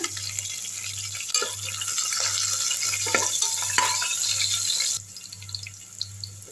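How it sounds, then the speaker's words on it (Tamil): Crushed garlic and green chilies sauté in oil with a steady close sizzle as they are stirred, scraping and clinking against the pan, over a low rhythmic hum; the frying drops quieter for the last stretch; no voices. "இந்த தட்டி வச்ச பூண்டை வந்து போட்டுடலாங்க எண்ணெயிலேயே அடுத்து பச்சை மிளகா நல்லா வதக்கி விட்டுருங்க"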